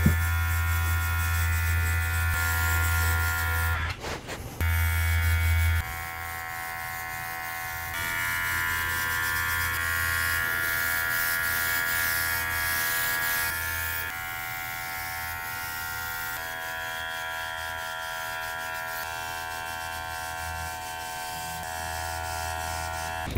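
An airbrush sprays over-reduced Createx Wicked Black paint between taped lines, a steady close hiss with a constant motor-like hum throughout, briefly cutting out near the five-second mark before resuming.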